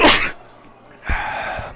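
A single loud sneeze bursts out at the start, then fades into quieter murmuring from a college football game crowd.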